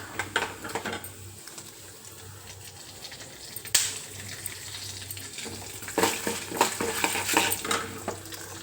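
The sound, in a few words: chana dal, urad dal, mustard seeds, peanuts frying in oil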